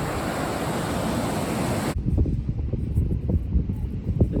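Pacific Ocean waves on a West Coast beach: a loud roaring wash of surf with heavy wind rumble, dropping abruptly into softer rolling wave and wind noise, no voices.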